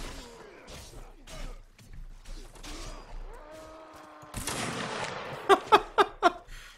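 Gunfire in the Mount and Blade game during a Seven Years' War–era musket battle: a burst of noisy battle din followed by four sharp, evenly spaced loud shots near the end, with someone talking over the earlier part.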